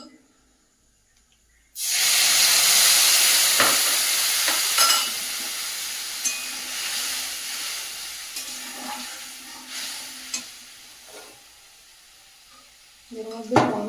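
Spiced mixture sizzling as it hits lightly fried food in a home kitchen pan, a loud sudden hiss that slowly eases into steady frying crackle with stirring clinks, alone without talk.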